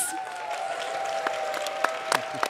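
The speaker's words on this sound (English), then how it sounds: "then you're all allowed to clap" A live audience at a tech panel podcast taping claps on cue, thin and scattered at first, with a few sharper claps near the end, over a steady ringing tone in the room.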